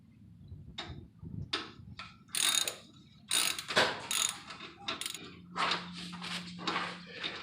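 A 13 mm socket on a ratchet working a Fiat brake caliper bolt during a brake pad change: close, loud metallic clicks and scrapes in irregular bursts, with a short steady hum in the second half.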